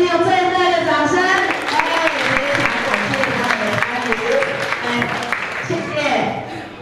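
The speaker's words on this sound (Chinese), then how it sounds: "再次用最热烈的掌声。" Audience applause at a summer camp showcase performance, a continuous dense patter of clapping heard alongside an amplified speaking voice throughout.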